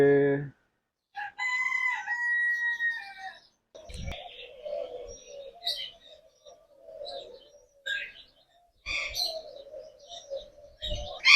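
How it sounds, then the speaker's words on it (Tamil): Peacock calls at Al Noman Zoo in Barka, Oman, loud honking cries that recur several times amid outdoor bird chatter, with brief low thumps between calls. "மயில்"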